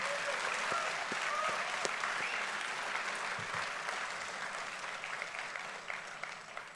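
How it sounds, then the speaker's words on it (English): A graduation ceremony crowd gives a sustained round of applause, a thick hall-filling clatter of many hands that starts strong and slowly eases off, with a few faint voices mixed in. "a huge round of applause to all your family members"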